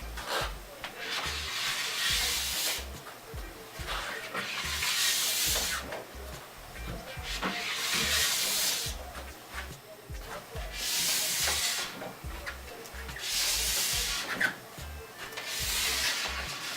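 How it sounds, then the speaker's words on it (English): A plastic scraper drags down a ski base in long, even strokes, shaving off excess wax with a loud, rhythmic rasping hiss that swells and fades about every two to three seconds. "take your plastic scraper, put it on the tip of the ski at about a 45-degree angle, consistent strokes all the way down the ski"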